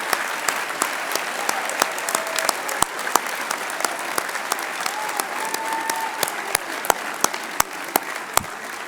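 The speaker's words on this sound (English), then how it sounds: "Students, let's give these folks a great round of applause." Large audience at Adrian College matriculation applauding the students' parents, a dense sustained roar of clapping with a few louder individual claps standing out nearby.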